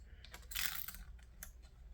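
Scissors snip through the damp roots of an onion in a quiet close-up setting, giving a few crisp, close clicks with a louder cluster of cuts partway through.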